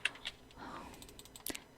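Typing on a computer keyboard while entering text in Photoshop: a short run of soft, close key clicks with a louder double tap near the end, quiet overall.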